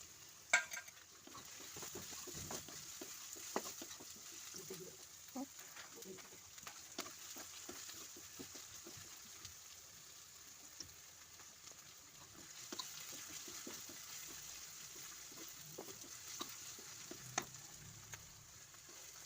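Chopped onion and green chilli sizzle gently in oil, a quiet, close crackle with occasional louder pops and stirring clinks scattered through it, without speech.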